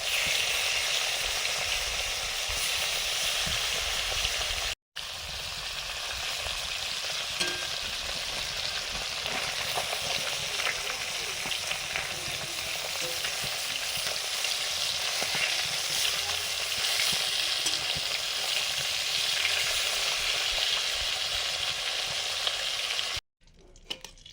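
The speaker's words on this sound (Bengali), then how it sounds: "নুন হলুদ মাখানো মাছগুলো ভাজছি।" Tilapia fish pieces coated in salt and turmeric frying in oil, a dense, steady sizzle that runs almost unbroken for over twenty seconds, close and even, with no voices.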